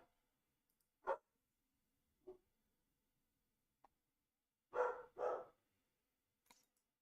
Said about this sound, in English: my dog's barking up a storm